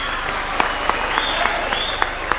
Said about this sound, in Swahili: kila mtu mpige rais makofi